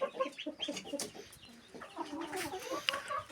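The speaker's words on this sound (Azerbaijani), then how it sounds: "Toyuqlar artıq çıxıb yatıblar." Chickens clucking softly while settled on their roost for the night, a loose chorus of low, close murmuring clucks with a few sharper calls scattered through.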